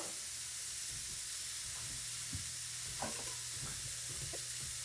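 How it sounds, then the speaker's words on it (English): Oxtails searing in a hot pan give a steady, soft sizzle with scattered faint pops and crackles, continuous and close, no voices over it. "And I'll let it sear on that side as well."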